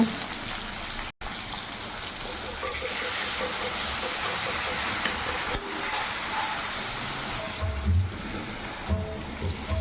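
Tomato, grated ginger and ground cumin, coriander and chilli mixed with water, frying in oil in a wok as a spice paste, a steady loud broadband hiss and sizzle with brief clatter near the end.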